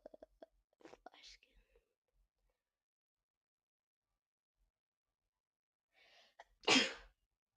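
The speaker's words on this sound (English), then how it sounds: "I sneezed." A person sneezes once, sharply and fairly close, near the end, after a few faint whispered words earlier; otherwise the room is nearly silent.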